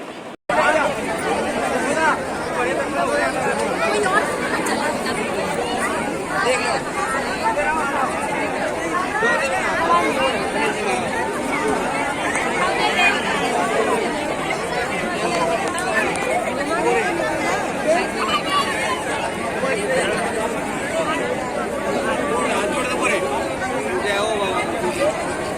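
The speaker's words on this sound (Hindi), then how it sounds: "तो इतनी भीड़ है, आप देख सकते हो" A large crowd chatters continuously at a Ganesh temple in Bharatpur, Rajasthan, on Ganesh Chaturthi, with a dense, steady babble of many voices close by.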